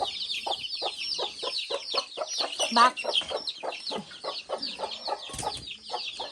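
A flock of domestic chickens released into a wet, rain-soaked courtyard clucks continuously in quick, overlapping bursts, close and moderately loud, with a brief word spoken partway through.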